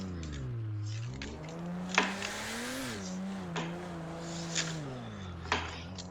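A drifting car's engine revs rise and fall continuously, with short sharp tire squeals cutting through at intervals, loud and close throughout.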